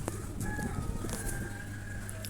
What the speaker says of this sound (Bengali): এই যে দেখেন মাশাআল্লাহ মোরগগুলো